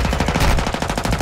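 A short, loud burst of rapid automatic machine gun fire from the shooter game Modern Warfare 2, shots rattling in a fast even rhythm at close range with no talk.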